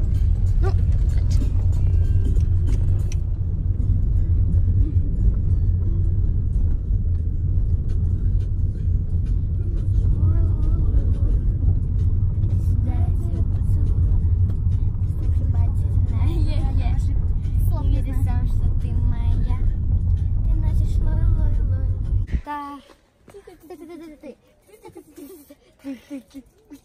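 Steady low rumble of a car driving on the road, heard from inside the cabin, continuing for most of the stretch with voices talking over it, then fading out as the engine noise drops away near the end.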